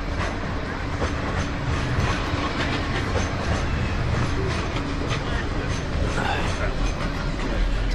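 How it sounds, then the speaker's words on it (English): A Blackpool tram passing by, a steady loud rumble of wheels on rail with faint clacking, continuous throughout and close, with a voice faintly underneath. "That's a tram passing by."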